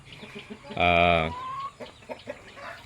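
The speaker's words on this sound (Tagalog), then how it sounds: "Ito si Fiona, yung ating Dong Tao hen" Dong Tao hen on a free-range farm giving one loud, sustained harmonic squawk or cluck lasting about half a second, with quieter clucks and background farm sounds around it.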